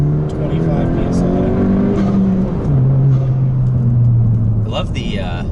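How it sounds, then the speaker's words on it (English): A turbocharged Honda Civic Si fitted with a Cobra cold air intake gives a loud intake whoosh and engine drone under boost, rising and falling in pitch as the car pulls, heard close from inside the cabin. "the blow-off sound from the intake."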